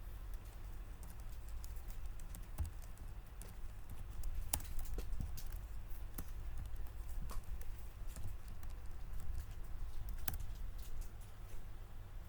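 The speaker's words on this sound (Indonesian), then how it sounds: "kita ketik ipconfig slash release" Sharp, irregular clicks of someone typing the ipconfig /release command on a computer keyboard, spread across several seconds over a steady low hum, with a few louder isolated keystrokes.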